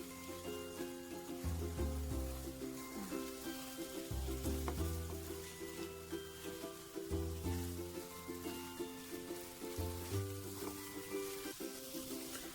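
Suman moron dough cooks in a non-stick pan while being stirred, making a soft, continuous sizzle with light stirring under louder background music.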